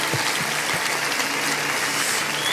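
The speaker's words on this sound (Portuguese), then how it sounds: "Dê um aplauso ao Senhor." A congregation in a church applauds continuously, a dense, even wash of many hands clapping throughout the few seconds, with no talking over it.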